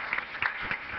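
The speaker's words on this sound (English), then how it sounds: "let's give them a round of applause" Audience applause at a city council presentation ceremony, a thin, steady patter of scattered clapping lasting about a second with no voices over it.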